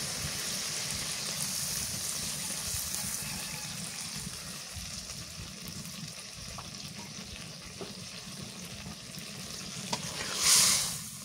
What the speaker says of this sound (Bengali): এখন দিয়ে দিই সরিষা পানি।